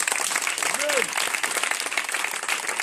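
A church congregation applauds, a dense, steady wash of clapping that fills the room from start to finish, with a voice rising briefly over the crowd.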